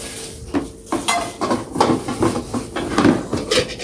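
Newly unboxed pots and pans are lifted and handled up close, giving a string of metallic clanks, scrapes and knocks in an irregular rhythm.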